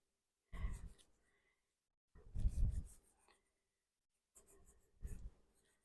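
A brush scrubs the rind of a home-aged cheese during affinage, three or four separate bursts of bristly scraping with quiet gaps between them, close up and alone.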